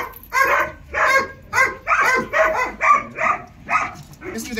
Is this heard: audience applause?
no